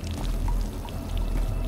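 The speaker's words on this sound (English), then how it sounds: "Alright, water the plants." Water pours from a bucket onto plants, a close, steady gushing splash lasting under two seconds with no talk over it.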